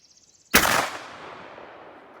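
A single loud, close shotgun blast from a 24 gauge shotgun firing a Lyman 20 gauge sabot slug outdoors, with a sharp crack followed by a long fading echo rolling away over about a second and a half.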